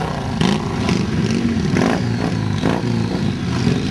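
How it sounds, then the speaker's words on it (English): Virago Star motorcycle engines rumble and rev nearby at the Bath Pageant of Motoring 2015, with several bursts of clatter and scraping as bikes pass by in quick succession. "How much they enjoy their lovely motorbikes"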